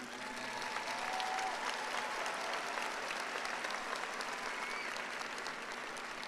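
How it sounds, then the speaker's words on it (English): Dense, steady applause from a large audience at a college commencement ceremony in an arena, honoring the sign language interpreters; loud and continuous throughout with no voices on top. "give a round of applause to the people who have done our sign language over here"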